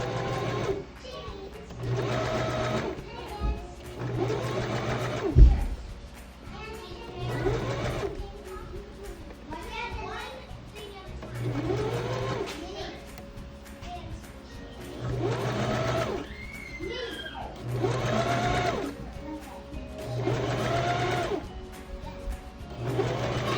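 A home sewing machine stitching a simple sundress runs in repeated bursts of whirring motor, stopping and starting for back stitches and forward seams, while children chatter and play in the background.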